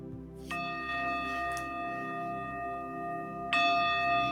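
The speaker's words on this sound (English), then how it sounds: "In a moment, the bell will sound." A meditation bell is struck twice, about three seconds apart. Each strike gives a clear, sustained ringing tone that hangs and fades slowly, and no one speaks.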